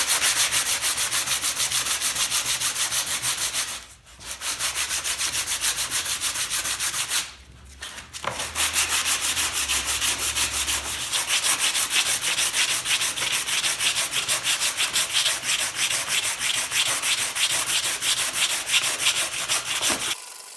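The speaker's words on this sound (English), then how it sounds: "use 80 grit sandpaper and just start sanding it" A polymer clay inlay on a guitar is sanded by hand with 80-grit sandpaper, a close, continuous scratchy rubbing with quick back-and-forth strokes, broken by two short pauses.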